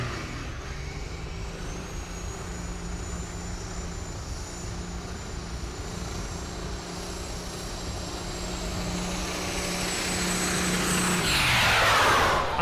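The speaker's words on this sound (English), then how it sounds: "Big old nasty gnarly burnouts coming at you." A hot rod semi truck doing a smoky burnout at the NHRDA World Finals in Ennis, Texas: a steady, loud engine roar holds for about eleven seconds, then a harsher, rising burst of noise swells near the end.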